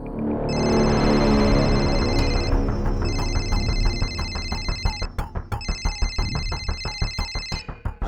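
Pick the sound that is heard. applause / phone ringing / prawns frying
phone ringing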